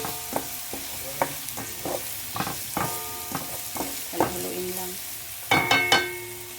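White onion frying in a pan for carbonara, a soft sizzle under scattered spatula clicks and scrapes, with a louder cluster of clattering taps near the end.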